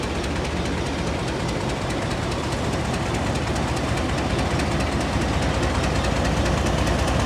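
A train stands at an old railway station near Rawalpindi and Islamabad, Pakistan, giving off a loud, continuous rumbling engine drone with a faint rhythmic knock, steady throughout.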